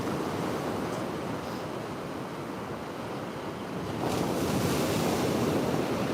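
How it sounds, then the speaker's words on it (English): Ocean waves roll onto a beach in a steady broadband wash with wind rumbling across the microphone, growing louder toward the end as a wave breaks nearer, with no talk. "the waves are really cool today"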